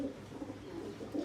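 A red Cheena pigeon of a pure bloodline coos softly and steadily at home during heavy rain, a low continuous throaty murmur that stays close and quiet throughout.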